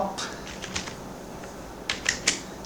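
Typing a prompt into ChatGPT on a keyboard, a short run of light, quick key clicks, close and fairly soft.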